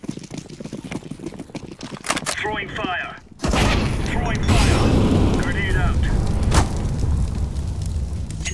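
A flashbang grenade goes off in a gunfight video game: a sudden loud bang followed by a sustained ringing, noisy wash, heard among gunfire and other game sounds while a person talks.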